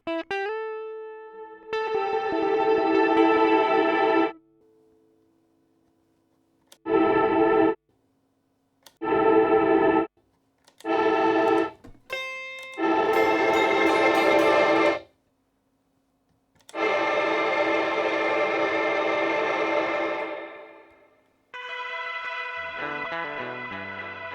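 Guitar notes and chords played through an Auto pedal reverb effect, bursts of ringing tone separated by silences, each decaying with a wash of reverb, ending on a plucked, trailing phrase.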